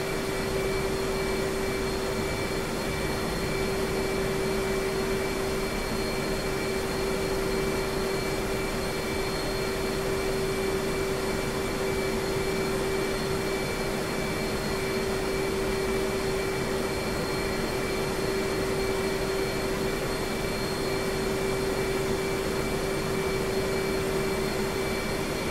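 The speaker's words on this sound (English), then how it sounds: "oh, we have a MI-24 doing here for some reason" An Mi-24 helicopter flying in DCS World on the Caucasus map, a continuous droning rotor and engine hum with a steady whine, unbroken and even in level the whole time, with no one speaking.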